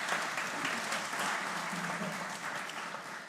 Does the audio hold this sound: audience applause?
yes